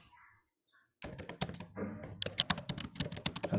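Code being typed on a computer keyboard for a C++ constructors lesson, a quiet pause giving way to a rapid, uneven stream of close, crisp key clacks and thumps.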